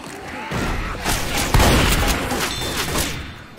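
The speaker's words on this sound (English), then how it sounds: "Can we stop shooting each other?" Gunfire in a video game, a rapid fusillade of shots and heavy booming blasts, loud and continuous with a big impact near the middle, and no voices over it.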